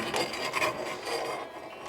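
A long Allen head bolt slides along the rail of a retractable tonneau cover on a 2019-2024 Chevrolet Silverado 1500, making a short, close, quiet metallic rasping scrape.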